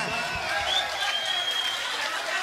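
Audience applause at a live concert by Fausto Gómez y Los Tremendos Aventureros in 2008, a steady dense wash of clapping from a crowd with faint voices and whistles mixed in throughout.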